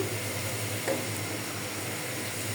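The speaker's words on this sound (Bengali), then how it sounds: "পেঁয়াজ রসুন তেলে দিয়ে দিয়েছি" Onion and garlic frying in hot oil in a pan, a steady close sizzle and hiss with one brief stirring scrape partway through.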